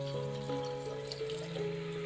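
A steady stream of water pours into a pan, a continuous close splashing flow with a faint humming tone underneath.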